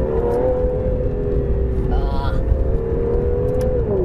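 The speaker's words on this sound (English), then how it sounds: "you can really hear that 177 derived exhaust system crackling" A 2017 Aston Martin Vanquish S cruises with a steady, droning engine note and a slowly shifting tone, while its exhaust crackles faintly beneath someone talking over it.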